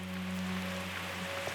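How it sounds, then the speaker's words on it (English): Torrential rain pours on a Pacific island during storm season, a steady, dense hiss of downpour with a low background hum underneath and no voices. "Overnight, torrential rain has once again battered the island."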